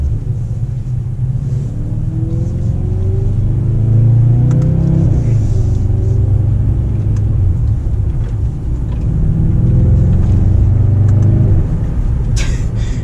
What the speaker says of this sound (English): The downshifts sound awesome.